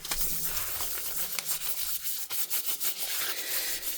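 Steady hissing spray of alcohol from a spray bottle onto resin, with brief pulses and rubbing noise, continuous and fairly close, no voices.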